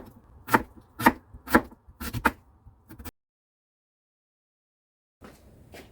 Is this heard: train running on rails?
no